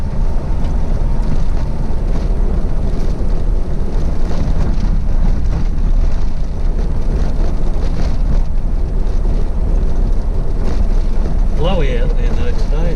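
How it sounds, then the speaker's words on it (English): Strong wind at an outdoor picnic area roars and buffets against the microphone without letup, loud and close, with a brief voice surfacing near the end. "Blowy out there though today, it's very, very windy."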